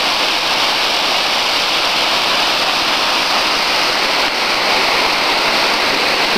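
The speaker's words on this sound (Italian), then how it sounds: "ecco ancora da un altro punto di vista la nostra cascata." Waterfall below a river dam, a constant, dense rushing roar filling the whole stretch, close and loud with no voices.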